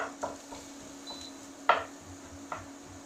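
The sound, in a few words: stirring onions in a pan with a spoon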